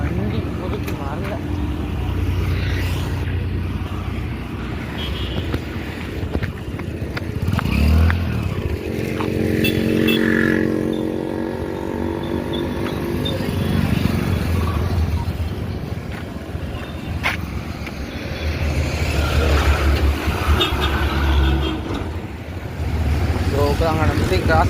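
Busy road traffic with motorcycles and cars passing close by, engines swelling and fading in waves over a steady roadside rumble, with people talking at times.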